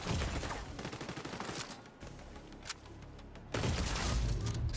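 Steady automatic gunfire in a Brooklyn shooter video game, sustained rattling bursts that briefly thin out midway before a loud, dense volley resumes.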